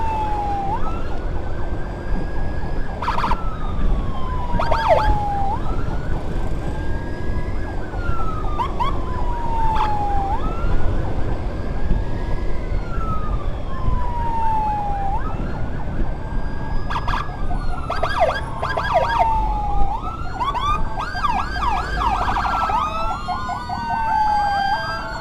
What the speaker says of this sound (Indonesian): Ini untuk sirinenya pakai sirine cepat